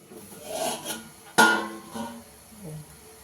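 A pot lid clatters open over a pan of cooking drumstick and tomato greens, one sharp metallic knock amid soft scraping and rubbing, fairly close.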